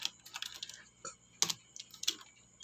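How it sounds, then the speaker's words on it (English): Close clicks of typing on a computer keyboard come in short uneven bursts with brief pauses between keystroke runs. "Then we can type the name."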